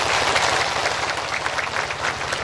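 Audience applause at a pengajian, an Islamic religious gathering in a village mosque, honoring the district head; dense, steady clapping from a crowd runs throughout at moderate loudness, with no speech over it.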